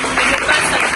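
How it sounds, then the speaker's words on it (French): A church congregation at a deliverance gathering claps and cheers in praise of Jesus, producing a brief burst of dense, steady applause. "Acclame Jésus, acclame Jésus"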